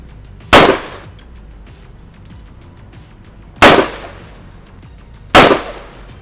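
Guns firing at a shooting session on a range: three loud, sharp gunshots spaced a couple of seconds apart, each with a short decaying tail, with no talking between them.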